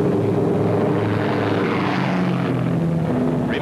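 Douglas A-20 Havoc piston engines roar steadily during takeoff, a loud, continuous propeller-driven drone with a low droning hum that holds throughout without any voices.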